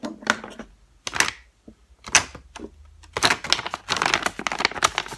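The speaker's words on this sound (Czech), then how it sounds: "Ona je na takový ten zip umělohmotný." A plastic zip on a Too Faced cosmetic pouch is pulled and handled in several short rasping bursts, close and crisp, with crinkly handling sounds between them.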